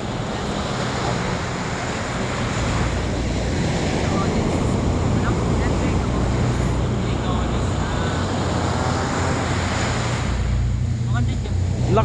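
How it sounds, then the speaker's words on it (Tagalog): Strong ocean waves surge and wash continuously along the shore at Tacloban, Leyte, a loud, steady roar with gusts of wind buffeting the microphone. "Lakas ng alon, no?"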